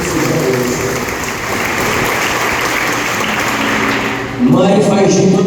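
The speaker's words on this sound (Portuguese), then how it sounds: "uma salva de palmas para as mães" Dense, continuous clapping from a crowd, sustained at an even level and swelling slightly louder near the end.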